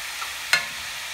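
Ground meat browning in a cast iron pan sizzles softly and steadily, with one brief sharp stir or scrape near the middle.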